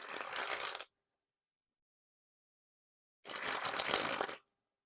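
Two close bursts of a new Theory11 Hollywood Roosevelt playing card deck being sprung from hand to hand, each a rapid fluttering riffle of stiff cards lasting about a second, separated by silence.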